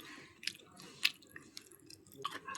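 Close, wet chewing of beef kosha curry, with a few sharper bites and crunchy squelches standing out against soft, steady mastication; no talking.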